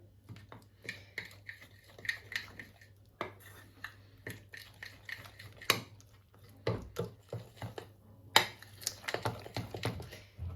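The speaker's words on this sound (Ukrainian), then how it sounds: "Вимішується воно за допомогою ложки." A spoon clinks and scrapes irregularly against a bowl while thick pizza dough is stirred, with sharp taps scattered among softer scraping.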